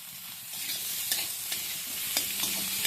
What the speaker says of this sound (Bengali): ধুলে পাতাটা দিয়েও আমি কয়েক সেকেন্ড নেড়ে নিচ্ছি